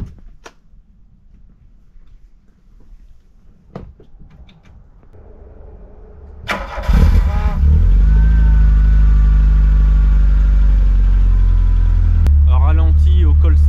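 A 1987 Volkswagen Scirocco II GTX 16V, 139 hp, starts up and settles into a steady, loud idle close by after some quieter handling noises, with the running engine continuing to the end.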